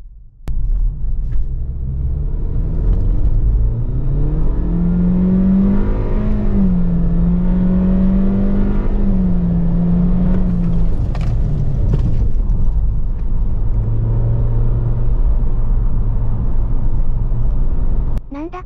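A Honda Civic LX with a VTEC engine pulls hard from first gear in paddle-shift manual mode, its engine note climbing steadily in a loud, sustained rising rev heard from inside the cabin.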